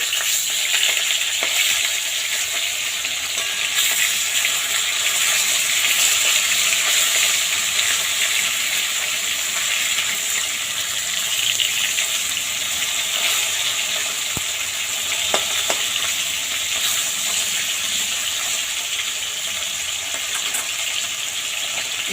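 Fish sizzles in hot oil in a kadai as the other side cooks, a long even hiss with sporadic light scrapes and ticks, close up and without speech.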